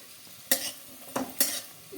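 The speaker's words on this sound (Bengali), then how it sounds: "তেলটা গরম হয়ে গেছে বড়ি ভেজে নেব" Hot mustard oil sizzles as lentil dumplings fry, under repeated scraping and clattering of a spatula against a pan, several sharp bursts spaced through the moment.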